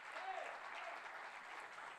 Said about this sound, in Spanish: Pueden darle un fuerte aplauso al Señor por este matrimonio tan hermoso.